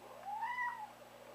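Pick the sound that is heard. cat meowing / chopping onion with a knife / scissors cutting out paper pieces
cat meowing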